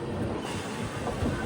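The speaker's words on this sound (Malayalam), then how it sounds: "ട്രെയിൻ ഇപ്പം ഇതാ ആലുവ റെയിൽവേ സ്റ്റേഷനിലേക്ക് എത്തുകയാണ്" The Gurudev Express, heard from a sleeper-class coach, pulls into Aluva railway station with a dense, continuous rumble of wheels and carriage noise. The roar stays loud and even throughout the short stretch, with no talk over it.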